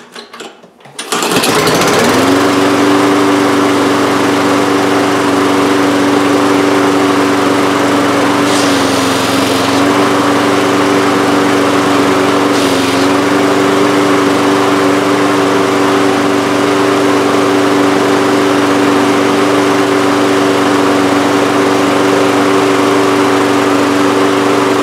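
A Toro Recycler lawn mower, one with a fault that keeps it from shutting off, fires up after a short pull and settles into a loud, steady close-up engine drone that runs on without a break.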